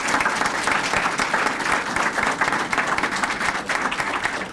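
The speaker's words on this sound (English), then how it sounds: "And you can clap for that." Dense, sustained applause from the audience at a civic announcement naming a city chief diversity officer, a loud and even patter of many hands clapping throughout.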